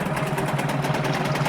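A HANGKAI 6.0 outboard motor runs at a steady idle, with a close, even drone and a rapid pulsing throb and no voices.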